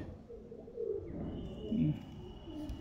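A Madras pigeon coos nearby in soft, low, rolling calls that rise and fall across the moment, fairly quiet, with faint background noise.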